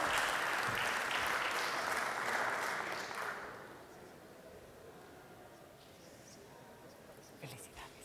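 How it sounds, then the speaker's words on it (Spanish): Audience applause for award recipients at a ceremony, a loud dense burst of clapping that fades away after about three seconds, leaving quiet room tone. "Les pido un fuerte aplauso para despedir al primer bloque de galardonados"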